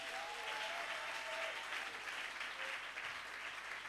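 A church congregation applauding in praise of Jesus during a French-language sermon, with steady, sustained clapping from a large crowd at a moderate distance and a faint voice briefly underneath.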